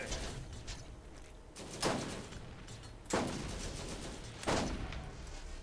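Gunfire in the video game Borderlands: three or four sharp, heavy shots spaced about a second apart over a steady noisy background.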